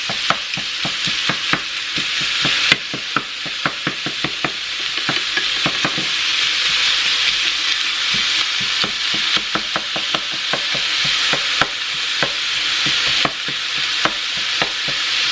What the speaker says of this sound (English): I'm putting it in here with the burger, ground beef, and now you can get that good garlic smell and taste.